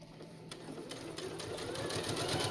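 A sewing machine finishing quilt binding with a back stitch gives a steady, close mechanical hum with a faint rapid pulsing that grows slightly louder over a couple of seconds, and no one speaks.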